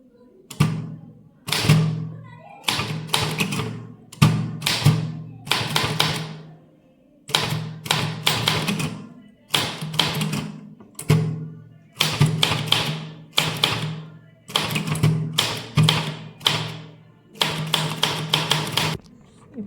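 A manual typewriter clatters steadily as a legal letter is typed, with sharp close key strikes in quick bursts and brief pauses between runs, heard alone without talk.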